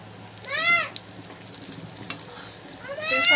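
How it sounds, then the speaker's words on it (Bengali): Bay leaf and whole cumin seeds sizzle in hot oil for a chicken masala curry, a steady hiss behind two loud, rising cat meows, one near the start and one at the end. "এই তেলটা গরম হয়ে গেছে, যে দিয়ে দেবো তেজপাতা, আর দিয়ে দেবো এই যে গোটা জিরা"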